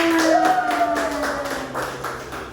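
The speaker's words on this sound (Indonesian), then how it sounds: "Yuk, tepuk tangan." Children in a classroom clap their hands together in a loose, roughly rhythmic burst. A voice calls out over the clapping, which fades slightly toward the end.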